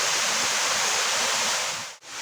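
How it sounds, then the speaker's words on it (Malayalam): Parayaruvi waterfall roars in a steady, broad rushing wash as water plunges straight down, cutting off abruptly near the end. "നേരെ വെള്ളം താഴേക്ക് പതിക്കാണ്."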